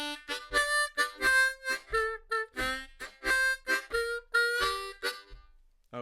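A harmonica plays a 12-bar blues rhythm line with bends and tongue slaps, rendered as a choppy series of short, close, reedy chords and single notes in a bouncing pattern, alone and without talking.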